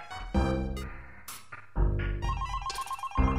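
A phone rings in the video game Five Nights At Cendy's. A pulsing electronic ring tone sits among busy, loud game sounds and musical tones.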